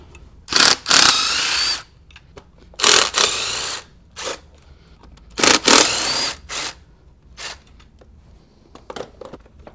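Bolts on the throttle body of a 2002–06 MINI Cooper S being loosened with a ratchet, three separate bursts of rapid clicking ratchet action, close and fairly loud, with quiet gaps between.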